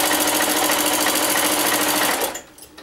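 A sewing machine stitches a quilted sewing machine cover in a rapid, steady run of close needle strokes, then stops abruptly near the end, with no voices.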